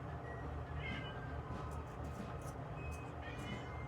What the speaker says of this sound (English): Cat's talking to me over here.